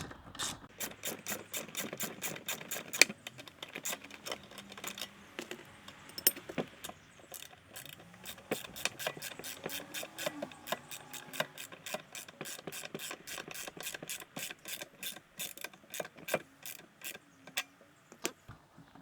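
An 11 mm wrench tightens a nut on a bolt while an Earthway 2600A Plus spreader is being assembled, producing a long run of quick, close ratcheting clicks in irregular bursts with a little metallic creaking between them.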